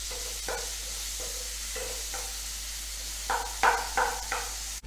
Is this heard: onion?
yes